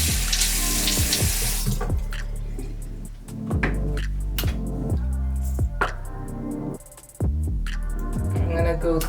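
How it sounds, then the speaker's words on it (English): Running cold tap water splashes steadily into a sink, with intermittent bursts and shifts as water is cupped and splashed onto a face, close by. "I'm gonna rinse my face off with cold water"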